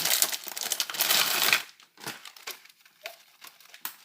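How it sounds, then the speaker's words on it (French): Snack chip packet being unwrapped up close: loud crackling crinkles of plastic wrapper for about a second and a half, then a few sparse, separate rustles and crackles with quiet gaps between them. "quand je vais réussir à le déballer"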